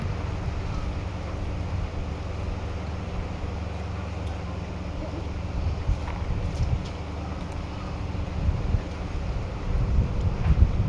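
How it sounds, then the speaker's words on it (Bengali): Evening wind sweeps across hills near a bamboo grove, a constant loud rush and rumble buffeting the microphone that swells in gusts without pause. "দেখেছেন বাতাসের কি শব্দ"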